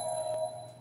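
A Crowfall video game interface click produces a ringing, phone-like electronic tone, a steady bright chime held for under a second at moderate level with a faint second tap near the end.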